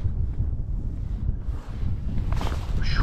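Strong wind buffeting a microphone on a fishing boat out after striped bass, a loud continuous low roar with gusty surges and faint water wash.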